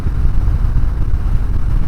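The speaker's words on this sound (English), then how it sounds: "Not gonna worry about letting you hear this exhaust too much because it's stock pipe still, so it's pretty quiet." A 2024 Harley-Davidson Breakout with stock exhaust cruises along a country road, its engine giving a steady, low rumble that stays even, blended with wind noise.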